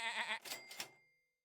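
Cartoon sheep bleat from the Super Auto Pets video game, a short wavering, nasal cry followed by two brighter pulses that fade out quickly, heard alone and close.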